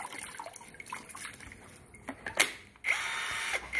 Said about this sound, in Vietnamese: Tôi tháo vào nước luôn anh em này.